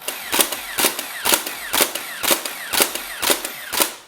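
Motorized Nerf Super Stampede blaster firing at its stock rate, a steady rhythmic series of about eight loud mechanical shots roughly half a second apart, each with a brief whir, heard alone.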